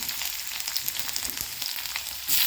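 Urad dal frying in oil makes a close, bright, crackling sizzle with scattered pops, steady throughout and swelling louder right at the end, with no voices.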